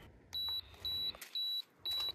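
A digital camera's self-timer, set up for photographing the Moon, Jupiter and Mars, gives four short, evenly spaced high-pitched beeps in a steady rhythm, clear and close against near silence.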